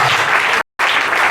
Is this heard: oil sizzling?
no